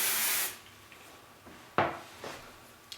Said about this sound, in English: finish with a little hairspray back there